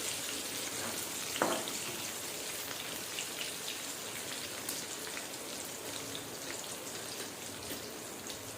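Taro leaves sautéing in a pan: a steady, crackling sizzle running throughout, with one brief sharper clatter early on.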